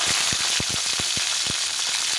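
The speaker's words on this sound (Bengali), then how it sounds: "এখন এর মধ্যে ক্যাপসিকামটা একটু ভেজে নিচ্ছি" Capsicum frying in hot oil in a pan, a steady bright sizzle throughout with frequent short crackles and pops in an irregular rhythm, close and fairly loud, with no voices.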